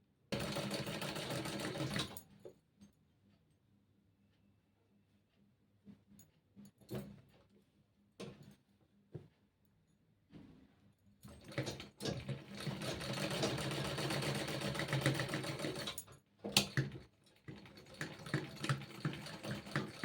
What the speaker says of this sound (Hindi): तो गाइस इस तरह से अब हम यहाँ पे सिलाई लगाना स्टार्ट करेंगे।